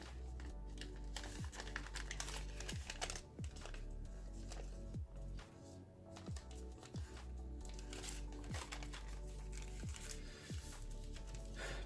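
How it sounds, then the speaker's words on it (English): Paper creases and crinkles close up as an origami tiger is folded, with a steady run of soft rustles and sharp little clicks over a low constant hum. "fold this edge under by mountain folding this crease."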